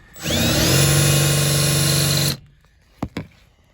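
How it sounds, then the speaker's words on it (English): A power drill whines loudly and steadily for about two seconds while drilling out a rusted bolt on a 1982 Dodge Rampage, then cuts out, followed by two short clicks or knocks. "did a lot of drilling"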